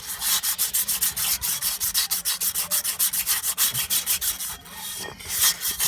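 Steady back-and-forth sanding with sandpaper on Renault 9/11 rear brake parts, about four rough strokes per second, close and continuous with a brief pause near the end.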